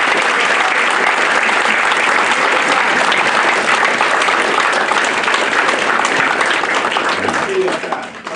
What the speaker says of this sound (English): Okay, for an applause.